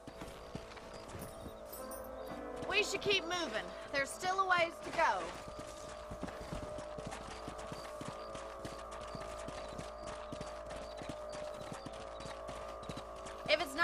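Horse hooves clip-clop at a steady walking pace in a Red Dead Redemption 2 Western setting, running under calm spoken dialogue, with a brief horse snort or whinny early on.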